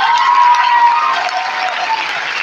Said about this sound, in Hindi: स्मार्ट वैल्यू के लिए एक बार जोरदार हाथ ताली होनी चाहिए